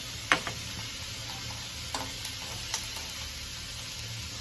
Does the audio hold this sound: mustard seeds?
yes